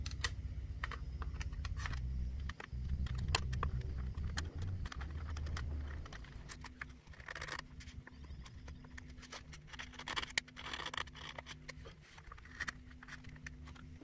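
A violin maker carefully cuts the bass bar away from the inside of a violin top plate with a hand tool, producing a steady run of close, dry scraping and tapping clicks over low workshop rumble.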